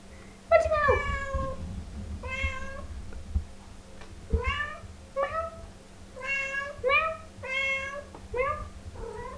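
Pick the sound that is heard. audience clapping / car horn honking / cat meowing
cat meowing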